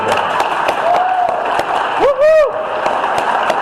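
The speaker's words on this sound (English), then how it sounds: "Let's give Valerie a round of applause" A crowd at a Las Vegas MAGA general meeting applauds Valerie Ferguson, with loud clapping throughout, cut by a brief whistle-like tone and a short sustained warbling cry.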